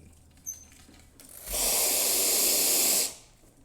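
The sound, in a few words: ECM Barista espresso machine dispensing water from group head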